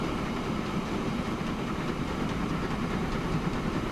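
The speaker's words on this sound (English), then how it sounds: "you just have freight trains going through a passenger station" A freight train rumbles through a passenger station in Transport Fever 2, a steady, loud rolling roar with faint clickety-clack of wagons, continuous for the whole stretch.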